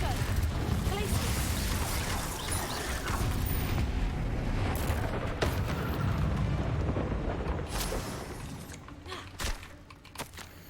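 Confringo blasting spell going off in the Hogwarts Legacy video game inside a cave, a loud rumbling explosion with crackling debris and booming impacts that rolls on for several seconds before tapering into scattered bursts, with a voice speaking over it.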